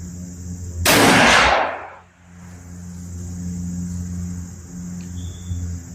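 One loud, sharp crack from a 400 Legend rifle firing Nosler 190 grain ammunition at an outdoor target, decaying over about a second, followed by steady buzzing insects and a low background hum.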